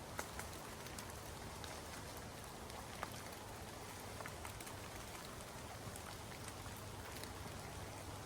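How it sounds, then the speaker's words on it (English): Steady rain falls across an Alaska cemetery, a dense, even patter of drops hitting surfaces, constant and fairly soft with a few sharper ticks, no voices. "I haven't been in this kind of rain in a long time"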